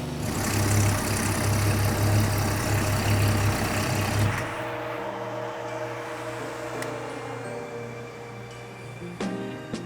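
A 1962 supercharged Slant Six engine, fitted with a rev limiter chip, runs loud and steady with a deep drone on a dyno. It then drops abruptly to a quieter, rougher idle, and a few sharp clicks come near the end.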